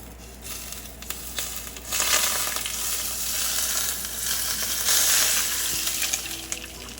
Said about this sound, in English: Now, the final touch is the hot oil.